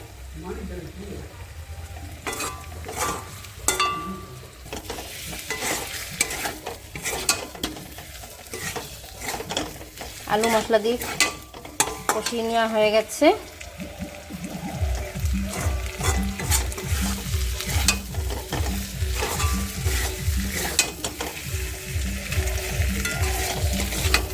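Egg curry masala frying in a pan, stirred steadily with a spoon that scrapes and taps the pan over a continuous close sizzle, the rhythmic scraping growing busier toward the end.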